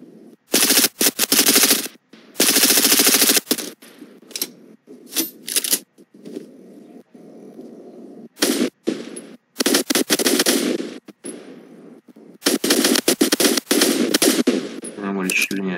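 Gunfire in the video game Fortnite comes in loud rapid automatic bursts, separated by brief gaps and scattered single shots, with faint game sounds in between.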